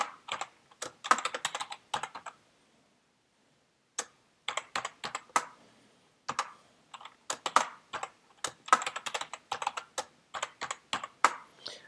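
Password being typed on a computer keyboard, quick bursts of soft, close key clicks in irregular clusters separated by short pauses.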